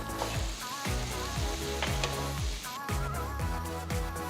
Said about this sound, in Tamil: வெங்காயம் 2-3 நிமிஷம் வதங்கின பிறகு 2 தக்காளியை பொடியை நறுக்கி போடுங்க.